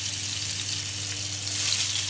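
Snakehead fish from a wetland sizzles as it fries in a pan, a loud, steady, close hiss lasting about two seconds with no talking.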